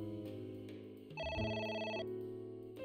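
A telephone rings inside AI: The Somnium Files, a tonal electronic ring with a steady stack of bright pitches holding for about a second over a bed of sustained game music.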